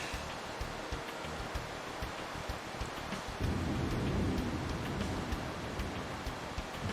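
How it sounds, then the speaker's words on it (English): Steady soft rain hiss from the Pokémon Alpha Sapphire video game, a faint continuous wash of falling drops that swells slightly partway through. "It's raining."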